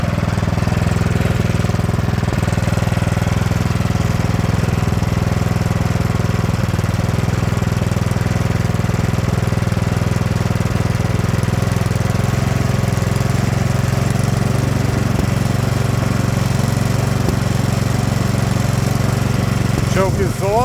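Craftsman snowblower engine running at a steady, loud idle for about twenty seconds, a constant close drone with a slight knocking pulse and no talking.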